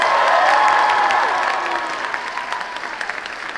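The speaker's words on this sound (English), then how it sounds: "Let's give them a big round of applause." A large convention crowd breaks into loud applause and cheering at an anime convention panel, the roar starting full and then thinning slightly toward the end as some hands keep clapping.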